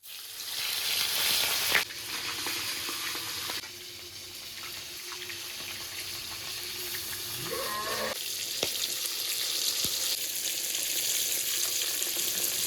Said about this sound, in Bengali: এবার মাছগুলো এক এক করে ভেজে নিচ্ছি